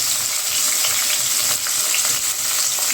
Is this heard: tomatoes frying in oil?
yes